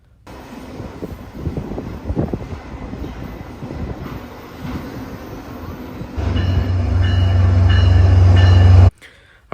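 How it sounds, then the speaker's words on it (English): A Metrolink passenger train led by an F59PHR locomotive approaches through rumbling track noise at Fullerton, then a loud, low diesel roar swells up close before cutting off abruptly. "we got F59 PHR leading on this Metrolink train"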